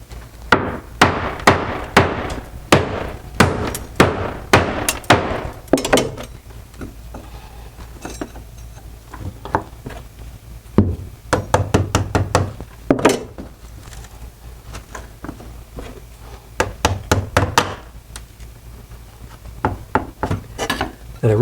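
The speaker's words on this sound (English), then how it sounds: "We're going to break a few more tiles away here" Hammer blows smash ceramic kitchen backsplash tiles off a drywall wall, sharp cracking strikes landing in quick irregular bursts with pauses between, close and loud with no talking.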